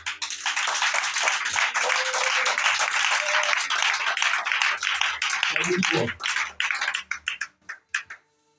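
A church congregation applauding in acclaim of Jesus Christ, a dense close burst of clapping that thins into scattered separate claps before stopping, with voices mixed in.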